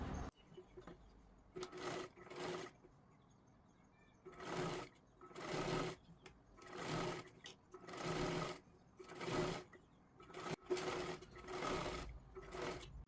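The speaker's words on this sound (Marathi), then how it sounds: "आता व्यवस्थित कडेला एकदम शिलाई मारून घ्यायची आहे आपल्याला" A sewing machine stitches along a blouse edge in repeated short bursts of a second or so, separated by brief pauses and fabric handling, fairly quiet and close, with no talk.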